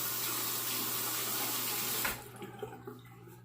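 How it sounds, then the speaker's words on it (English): A sink tap runs in a steady close-up rush while a razor is wetted and a little water drains away, then cuts off abruptly near the end, leaving a few small drips and clinks. "let me go ahead and drain the little bit of water I have in the sink and wet the razor"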